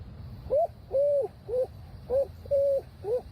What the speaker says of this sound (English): First we get the barred owl.